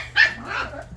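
A dog fresh from a bath gives one short, loud bark followed by a softer whining yelp, close by and heard alone.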